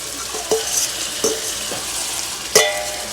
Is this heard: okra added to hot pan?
yes